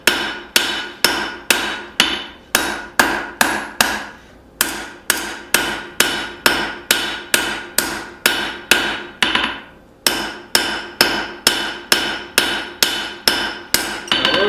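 Steady hammer blows on a hot knife blade being drawn to a distal taper at black heat, ringing metallic strikes in an even rhythm, loud and close, with two short breaks in the sequence.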